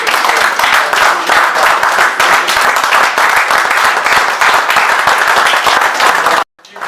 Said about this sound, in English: Give these two men a rousing applause.